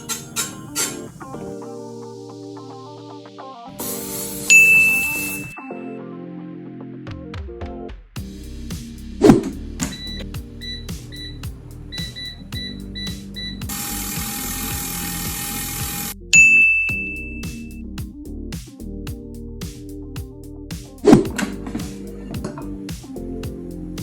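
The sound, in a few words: Xiaomi Youban smart air fryer running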